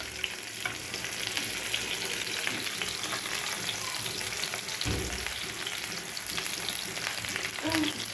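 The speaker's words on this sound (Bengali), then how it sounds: "আমি পেঁয়াজটা একটু ভেজে নেব, পেঁয়াজটা একটু ভেজে নিচ্ছি" Onions fry in hot oil for a fish curry, a steady crackling sizzle filling the whole stretch with occasional stirring scrapes and one soft low thump midway, close and continuous with no voices.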